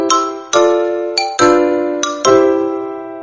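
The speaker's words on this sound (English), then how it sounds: "Ooh, a xylophone sounds like this." Xylophone notes ring out one at a time in a Mickey Mouse Clubhouse children's video game, five or six bright, clear strikes that each decay slowly, loud and close with nothing else playing.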